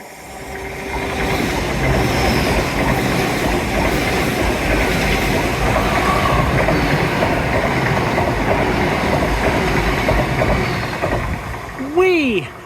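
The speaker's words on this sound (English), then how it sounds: "First proper train of the day without the wind blocker on" A train runs along a seawall, a loud, steady rumble with rail clatter that holds for most of the pass, ending in a brief squeal near the close.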